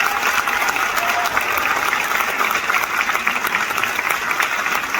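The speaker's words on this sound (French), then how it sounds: "Merci beaucoup Dominique, on peut l'applaudir évidemment." Steady applause from a crowd at a feminist rally opposing pension reform, many hands clapping in a thick continuous roar that holds at one level from start to finish.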